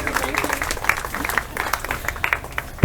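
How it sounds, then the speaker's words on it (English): Applause from an audience at a community event as silver-level sponsors are acknowledged, a steady patter of many hands clapping that holds throughout, with a voice over the room. "Round of applause for our silver level sponsors."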